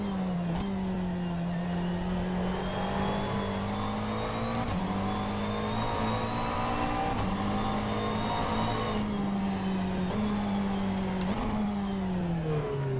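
GT3 mid-engine Porsche race car in the sim rFactor 2, its engine droning steadily with sharp rising and falling pitch as it shifts through gears, heard alone and fairly close.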